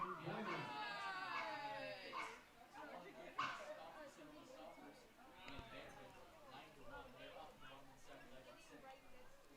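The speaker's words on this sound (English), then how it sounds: "Now I've heard some full-throated barking there, too." Dogs barking and yipping at a baseball game between the Lincoln Potters and Walnut Creek Crawdads, a run of excited barks and whimpers at the start, then scattered yaps under steady commentary.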